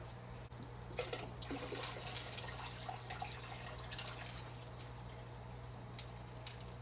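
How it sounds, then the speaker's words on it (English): RODI water is poured into a 5 gallon long betta tank, a quiet, continuous trickle and splash with scattered small drips over a steady low hum. "Now I'm going to add the RODI water"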